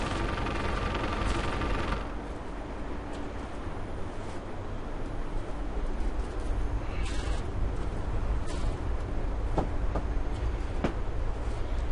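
Train moving on the Isle of Wight line in the Train Simulator 2013 game, a steady loud rolling rumble with occasional clicks and rattles, no voices.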